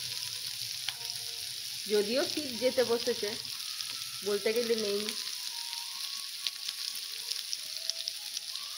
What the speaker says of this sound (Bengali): একটু করে আলুটাকে ভালো করে ভেজে নিতে হবে।